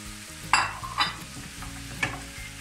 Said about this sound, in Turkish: Ve son olarak haşladığım eti ekleyip karıştıracağım.